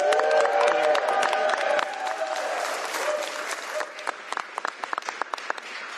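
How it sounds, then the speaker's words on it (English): An audience at a governor's bill signing applauds two state legislators; steady clapping with some cheering rises at once, then thins into scattered, sparse claps toward the end. "Give them a huge round of applause."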